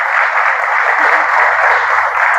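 Church congregation applauding during an evening worship service, a dense steady wash of clapping that fills the space from start to finish, with a low murmur of voices rising underneath in the second half.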